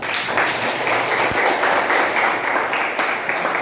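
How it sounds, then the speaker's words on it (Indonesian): A classroom of students claps together in steady, dense applause that holds for several seconds without a break. "Sofik Jamatan, tepuk tangan."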